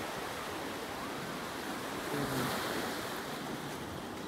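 Ocean surf rushes and washes steadily onto a sandy beach in La Union, Philippines, with a swell of a breaking wave midway, heard from a short distance with no voices.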